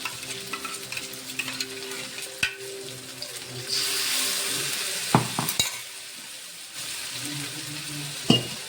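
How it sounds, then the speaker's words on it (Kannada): Masala frying and simmering in oil for North Karnataka-style brinjal curry, with a steady low sizzle and bubbling, a stirring scrape now and then and a few sharp utensil knocks near the end, all close by. "ಒಂದು ಕುದಿ ಬರ್ತಂದ್ರೆ ಮಸಾಲೆ ಹಸಿ ವಾಸನೆ ಎಲ್ಲ ಹೋಗಿ ಪರ್ಫೆಕ್ಟಾಗಿ ಮಸಾಲೆ ಎಣ್ಣೆಗೆ ಫ್ರೈ ಆಗಿ ತರ್ತಾ"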